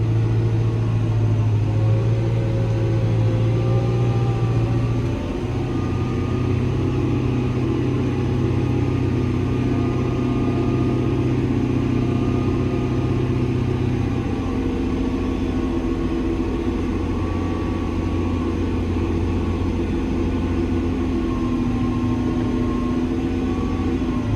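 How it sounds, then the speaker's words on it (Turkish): A tractor engine drones steadily, its low laboring rumble shifting slightly in pitch as it strains under load in loose, filled soil while preparing a sunflower field, loud and continuous throughout. "kaba dolgu toprak olduğu için traktör zorlanıyor"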